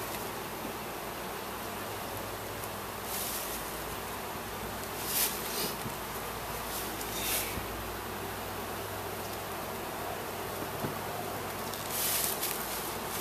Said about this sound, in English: The bees will go in and they'll release that queen